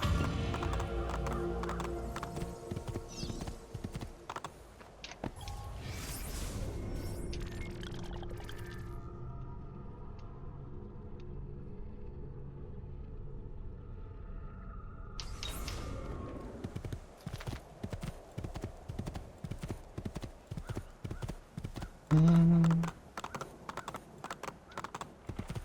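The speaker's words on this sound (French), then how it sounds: "J'ai pas le droit d'amener mon cheval en ville." Horse hooves in the video game Assassin's Creed II, a long run of rhythmic clip-clopping footfalls that pauses midway and then resumes, steady and fairly close.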